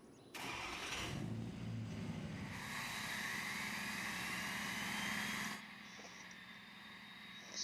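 A truck with pink wheels cranks and fires up, its engine catching sharply and then running loud and steady for about five seconds before settling to a quieter idle.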